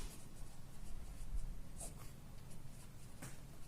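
Chalk or marker writes on a board during an accounting lecture, faint scratchy strokes in short bursts against a quiet room, with no talking.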